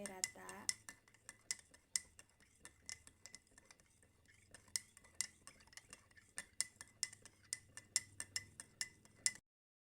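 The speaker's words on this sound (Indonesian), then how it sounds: "Masukkan 1 sendok ke dalam gelas yang berisi air, kemudian diaduk sampai rata." A spoon stirring salt into a glass of water, giving a long run of quick, light metallic clinks and ticks against the glass at an uneven rhythm, close by, with a brief murmur of voice near the start.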